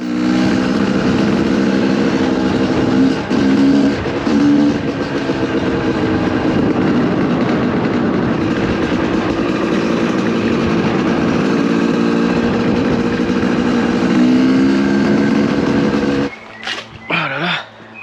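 A Yamaha WR 250 motorcycle rides around a neighbourhood with a steady, buzzing engine note that shifts slightly through the gears, loud and continuous, before cutting out near the end amid a few brief knocks.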